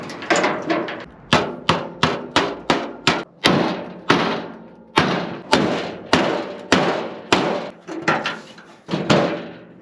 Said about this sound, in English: See if I can bend this out a little bit.